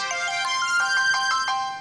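A T-Mobile ringtone plays from a Nokia E73 business phone being unboxed, a short bright melodic jingle of several rhythmic tonal notes heard clearly and close, with no talk over it.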